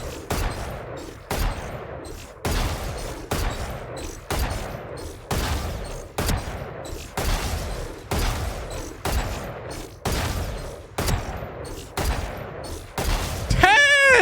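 Video game gunfire in steady repeated bursts, about a dozen loud sharp volleys roughly one second apart, each decaying quickly, with a brief electronic chirp at the end.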